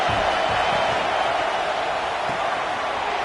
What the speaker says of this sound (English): The Tide crowd roaring noise down on the Saban field on third down